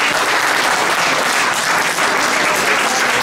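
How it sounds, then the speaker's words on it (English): An audience at an interfaith immigration forum in an Episcopal church applauds, a loud, even wash of clapping that holds steady for a few seconds. "round of applause for her."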